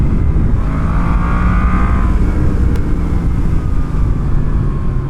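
A Yamaha FZ-10 motorcycle accelerates hard on an open road, its engine note climbing loudly and steadily with a rising pitch, alone with no talk over it.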